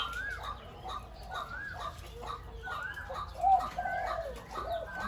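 Captive trained dove cooing, a repeated series of soft rolling coos at close range in a regular rhythm over faint background noise.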